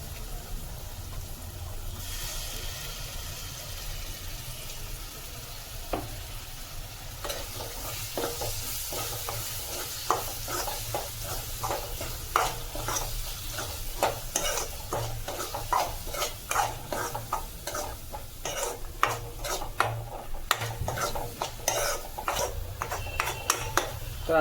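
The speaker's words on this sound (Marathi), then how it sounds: "कांदा टमाटर आपला भाजून झालाय. आता आपण वाटण घालून घेऊया." Ground masala paste stirred into sizzling onion and tomato for a homemade mutton gravy, a steady frying hiss under repeated scraping and clinking of a spoon against the pan, growing busier and sharper later on.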